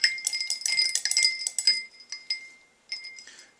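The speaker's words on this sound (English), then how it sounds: "Keep on stirring, keep on putting ice in here." Ice cubes clinking and rattling against a glass of water as it is stirred, bright rapid chinks in quick bursts followed by a brief pause and a few more clinks, close and clear.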